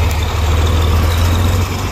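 A tractor engine runs close by in a steady, heavy low drone, idling evenly during hay-bale unloading, with no voices over it.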